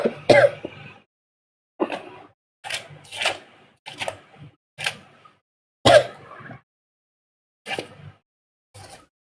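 A person coughs and clears their throat in a run of about nine short, sharp bursts separated by brief pauses, close and fairly loud.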